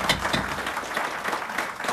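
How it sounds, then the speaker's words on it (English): A room of attendees at a parish police jury meeting breaks into moderate, continuous clapping, a dense patter of many hands heard at medium distance. "If I could keep y'all from clapping"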